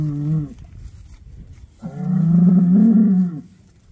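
Cattle being sorted and separated for weaning moo loudly nearby: one short low call, a pause, then a longer drawn-out moo, with no talk.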